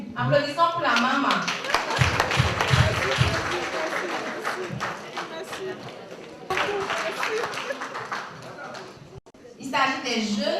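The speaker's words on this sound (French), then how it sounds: "Applaudissons pour la maman." Audience clapping for a mother at a school gala evening at a lycée, a sustained dense patter of hands lasting most of the stretch, with voices talking over and between it.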